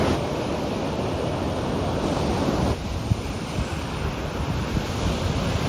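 Pacific Ocean surf rolls in at Torrey Pines beach in La Jolla in the late afternoon, a continuous wash of breaking waves with wind buffeting the microphone and no voices.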